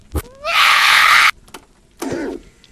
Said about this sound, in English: I'm glad they don't play the scream full blast the second time around